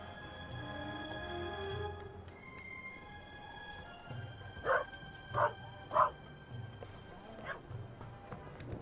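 Three sharp dog barks in the video game The Raven Remastered ring out in quick succession over a sustained orchestral music bed, moderately loud and evenly spaced about a second apart.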